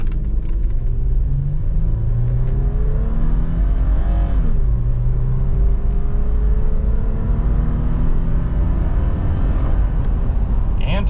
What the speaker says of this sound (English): 0 to 60 in the 4Runner, 4 high, traction off, brake rev,